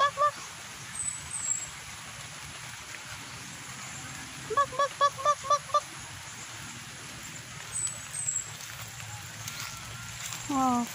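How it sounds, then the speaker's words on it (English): A flock of ducks quacks and honks in short bursts, including a quick run of about six calls midway. The calls are moderately distant, with background noise and some faint voices. "A lot of duck."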